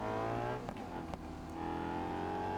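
A car driving in a video game hums along with a steady engine drone and slight pitch shifts, a couple of brief clicks cutting through, no talking.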